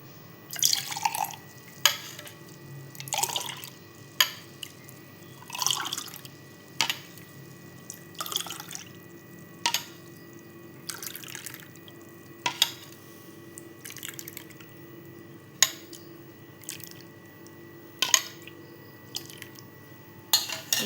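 Sol kadhi drips into a glass in faint, scattered drops over about twenty seconds. The drops land at irregular intervals, with quiet pauses between them.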